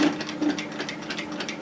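Sewing machine stitching over an existing seam on a fabric balaclava hood, a fast, close, even mechanical clatter running continuously.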